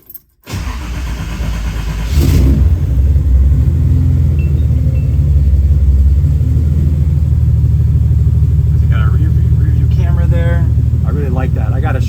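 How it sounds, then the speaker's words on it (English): A Datsun 280Z with an L28 inline-six cranks briefly, fires and settles into a loud, steady idle with a deep rumble; a few faint voices come in near the end. "Start the car up."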